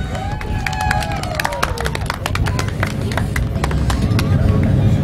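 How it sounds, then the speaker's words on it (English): Crowd clapping and cheering at a dirt racing track after a driver's eighth straight win, a broad wash of applause with sharp claps and whistles building steadily, while a voice carries over the crowd noise. "How about a round of applause for Chris Rabi?"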